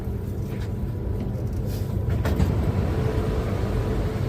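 A Bangkok metro train runs with a steady low rumble and wheel roar close by, a continuous dense drone inside the carriage with no talk.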